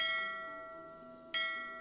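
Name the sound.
school class bell ringing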